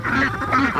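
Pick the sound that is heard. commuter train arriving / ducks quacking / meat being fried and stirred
ducks quacking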